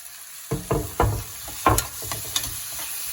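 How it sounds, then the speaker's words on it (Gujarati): Chopped tomatoes hit a hot pan of sautéed onion and garlic for sev tameta, bursting into loud sizzling with repeated stirring scrapes and crackles, close and without talk. "ઓનિયન અને લસણ સતરાઈ ગયું છે તો હવે આપણે એમાં ટામેટા નાખી દઈશું"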